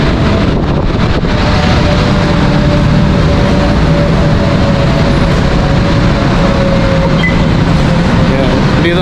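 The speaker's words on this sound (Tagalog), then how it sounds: "Dito na tayo sa loob ng MRT man." Steady, loud rumble and rushing noise of a moving MRT train in Quezon City heard from inside, constant throughout with no pauses.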